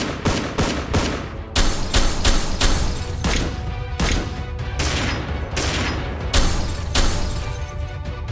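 Rapid gunfire effect blasting from a Zoids Wild Drei Panther toy, loud dense bursts of shots and crashing impacts in quick succession, with brief pauses between volleys.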